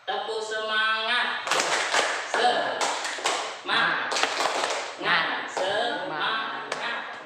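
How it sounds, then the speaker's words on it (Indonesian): A school class doing a rhythmic clapping cheer, bursts of patterned claps alternating with chanted group voices, fairly faint and roomy. "Tepuk semangat."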